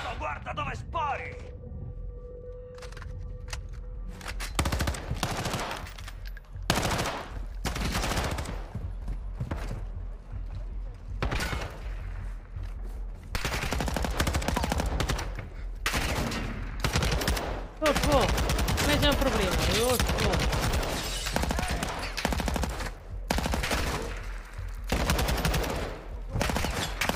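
Gunfire in the video game Modern Warfare 2 (2022) rattles in sharp bursts and long automatic volleys throughout, loud and close, with game voices speaking between shots.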